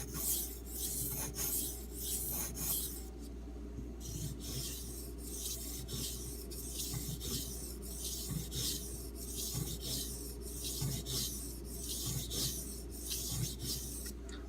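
A knife blade rubs back and forth on an RH Preyda Arkansas water stone, a soft rhythmic gritty scraping repeating steadily and quietly over a low background hum.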